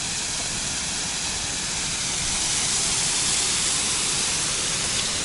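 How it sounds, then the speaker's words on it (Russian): A waterfall in the Expo park in Antalya, Turkey, gives off a steady, dense rushing roar that stays even and loud throughout, with no voices. "рядом с водопадом"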